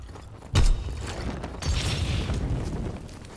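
An explosive detonating in Call of Duty: WWII, one sharp loud blast followed by a lower rumbling boom and settling debris noise.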